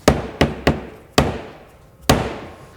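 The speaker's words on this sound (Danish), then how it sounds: "det er også en dødslagshammer. Der er sand i." A sand-filled dead blow hammer striking a hard surface, five or six sharp, loud, close impacts at an uneven rhythm, each with a short decaying ring, heard alone.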